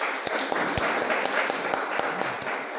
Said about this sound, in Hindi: हामी उहाँ सबैले उहाँलाई ताली बजाएर स्वागत गर्नेछौँ